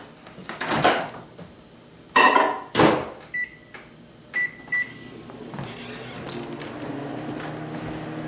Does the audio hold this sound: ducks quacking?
no